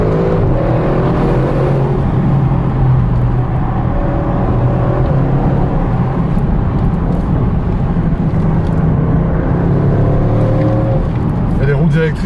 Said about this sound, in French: c'est un gros V8 biturbo